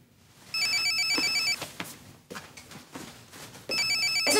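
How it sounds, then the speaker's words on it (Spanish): A mobile phone rings in a bathroom, its electronic ringtone sounding in two clear bursts of repeating tones with a quieter gap of muffled room noise between them. "está sonando un celular en tu baño"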